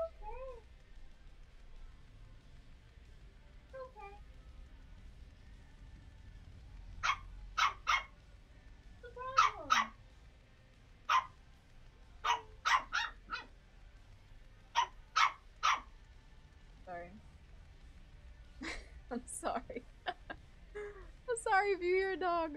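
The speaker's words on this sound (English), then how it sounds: "If you hear a dog" A dog barks in a room, giving sharp yaps in clusters spread across the stretch, while a person talks quietly nearby.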